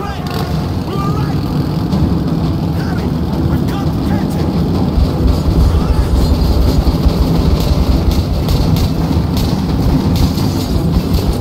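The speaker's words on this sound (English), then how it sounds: "That's the train!" A train in the video game Metro Last Light rumbles and clatters continuously, loud and close, with a dense steady roar and faint rhythmic rail clicks.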